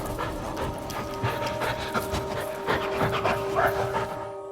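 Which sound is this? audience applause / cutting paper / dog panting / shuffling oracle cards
dog panting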